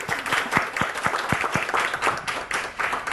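Audience applause at a Finnish workplace network meeting, a burst of dense clapping from a roomful of people lasting the whole few seconds, steady and fairly close with no talk over it.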